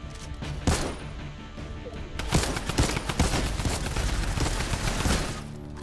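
Gunfire in a first-person video game shooter crackles in scattered bursts and single shots, with a sharp burst early on and denser volleys through the middle, loud and close.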